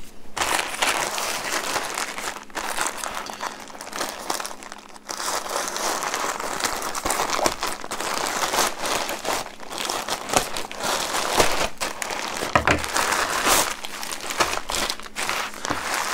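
A plastic bag and bubble wrap crinkle and rustle continuously, close up, while a parcel of miniature street-building models is unpacked. The handling noise is loud and uneven with small crackles, and no one speaks.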